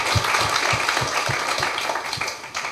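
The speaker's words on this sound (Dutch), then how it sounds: "Applaus." A theatre audience at the Den Omgang musical in Schaijk applauds in a dense, steady wash that fills the whole stretch, with a soft low thump pulsing underneath at a regular beat.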